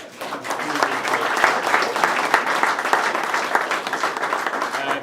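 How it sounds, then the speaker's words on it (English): A hillclimb crowd at a motor club event claps for the organizers, a sustained burst of close, crisp clapping with a few sharper individual claps standing out and a little chatter underneath. "So huge round of applause for them."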